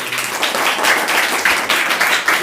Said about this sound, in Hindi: बच्चों से एक बार चाहेंगे तालियां बजाएं।